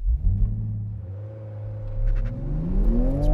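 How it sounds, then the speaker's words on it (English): A new Toyota Supra launches from a standstill on a start-finish straight for a timed standing quarter mile, its engine rumbling low and then climbing steadily in pitch as it accelerates hard, loud and close throughout. "The final thing for me to do in this new Supra is to set a standing quarter mile launch time."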